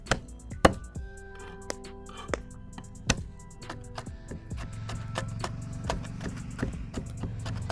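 Knife chopping onion rings and peppers on a board for lula kebab, sharp irregular chops up close over a low steady background hum.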